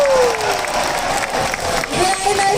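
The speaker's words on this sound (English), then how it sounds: "How about we give them another round of applause?" An audience at a Hersheypark sea lion show breaks into steady clapping with a little cheering, and a thin whistle-like tone is heard over it.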